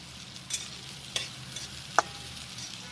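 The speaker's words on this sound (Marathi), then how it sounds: "फक्त हिरवा वाटाणा आहे, त्याच्यामुळे पण तेलात फ्राय करायचा चांगला" Green peas frying in oil with onion, stirred now and then, with a soft sizzle and a few brief clinks of a spoon against the pan, close by and fairly quiet.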